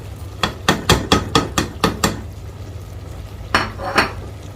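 A spoon clanks rhythmically against a pot while stirring chilli, coriander and turmeric powders into Kerala-style butter sambar, about eight quick metallic scrapes and knocks in a row, then a pause and two more.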